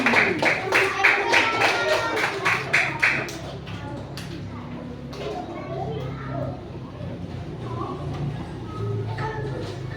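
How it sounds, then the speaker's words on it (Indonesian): A class of children in an elementary mathematics lesson claps in a quick, fairly loud burst of sharp, rhythmic hand claps for about three seconds, then the claps fade out and children's chatter and voices continue through the room. "Tepuk tangan dulu."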